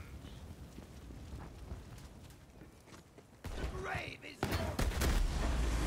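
Fully automatic gunfire from the Slow Hand weapon in Borderlands 3, with loud rapid bursts arriving in the last couple of seconds over a busy game background.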